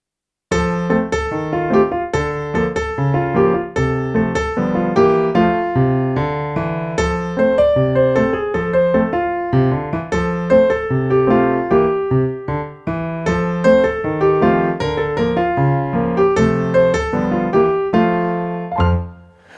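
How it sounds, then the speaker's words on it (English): Solo piano playing a simplified ragtime-style left-hand accompaniment for a beginner-level piece, with a steady bouncing bass-and-chord pattern that is loud, clear and continuous for about nineteen seconds. "a typical simplified ragtime style accompaniment for this piece might sound like this"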